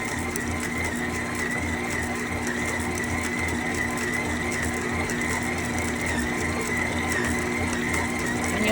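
A stand mixer churns flour at speed 2, its motor giving a continuous, even mechanical whir with a rhythmic rattle, close and constant throughout.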